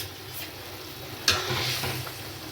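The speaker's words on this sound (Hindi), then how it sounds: "देखिए ग्रेवी में अच्छे से उबाल आ गया" Lauki koftas simmer in boiling gravy on a gas stove, giving a quiet, steady bubbling hiss with one brief sharper click midway and no voices.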